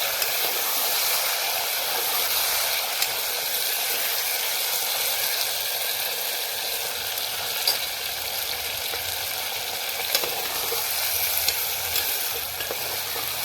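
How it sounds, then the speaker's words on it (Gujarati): Skin-on potato pieces fry in hot oil tempering for a Gujarati potato curry, a continuous bright sizzle and crackle that stays steady and close with faint stirring. "તેલમાં એકદમ રીતે આપણે એને થોડી વાર 3 થી 4 મિનિટ આપણે કડકડવા દેવાનું છે"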